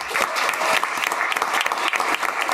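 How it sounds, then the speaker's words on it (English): An audience applauds seniors at a school gathering, a loud, busy burst of many hands clapping close by, steady throughout with sharp individual claps standing out. "Let's give them a round of applause."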